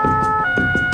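A fire brigade emergency vehicle siren sounds loud and close, a steady sustained wail at a gendarmerie incident scene, with no talk over it.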